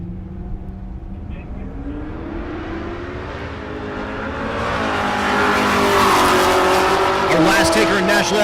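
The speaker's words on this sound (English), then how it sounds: "Sean Stanford in the right lane, the 2020 model Chevrolet Camaro" A 2020 Chevrolet Camaro launching down a drag strip at a race week event, engine revving up into a loud rising roar with tire squeal that builds and stays loud to the end.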